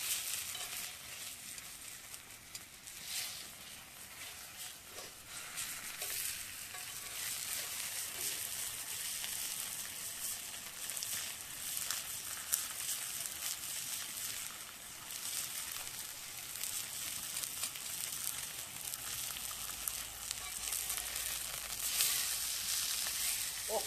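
Pork sizzling as it grills on an iron pan, a dense, continuous hiss and crackle lasting the whole stretch with scattered sharper pops, fairly close and steady.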